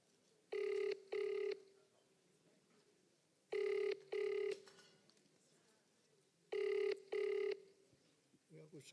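A phone call's ringing tone repeats in paired double pulses, three cycles at steady intervals, clear and close over a quiet background hum.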